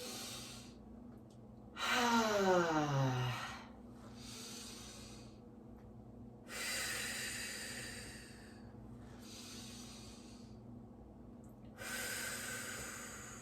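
Deep breaths drawn in and let out during a gentle fitness workout: three separate airy, hissing breaths, close to the microphone, with quiet pauses between them.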